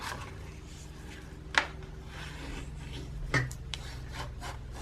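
Scored paper being folded and burnished with a bone folder, a faint dry rubbing and gliding sound with two brief sharper scrapes, close by and quiet, with no talking.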